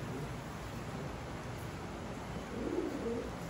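A pigeon newly arrived from Belgian breeders gives a soft, low cooing near the end, faint against a steady hiss of background noise.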